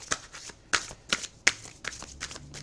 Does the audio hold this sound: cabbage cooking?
no